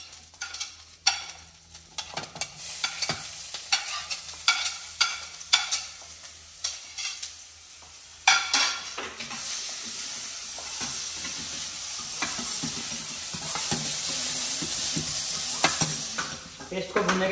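Chopped green chillies and ginger-garlic paste dropped into hot oil, spitting and sizzling with spoon stirring and scraping, a sharp burst of frying partway through, then a steady loud sizzle.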